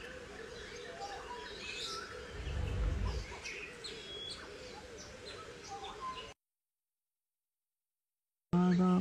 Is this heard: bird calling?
yes